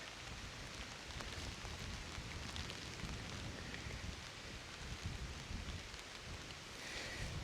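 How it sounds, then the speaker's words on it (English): Steady rain falls outside a damp, reportedly haunted castle where someone is camping alone, a dense, even hiss with no voices and no clear thunder. "it's supposed to stop raining, but it doesn't look like it"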